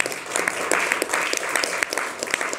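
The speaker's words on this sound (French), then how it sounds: "on peut l'applaudir" Close, dense applause from an audience, a fast rippling patter of many hands that holds steady throughout with no voices over it.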